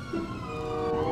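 A police car siren in the video game GTA V wails steadily at moderate distance, a continuous rising and falling tone with no talk over it.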